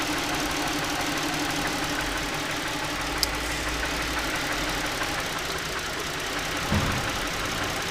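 A 2008 Ford Edge engine idling with a misfire from a melted ignition coil, a steady low rumble with slight knocking that holds evenly throughout, with one brief thump near the end as a coil is unplugged.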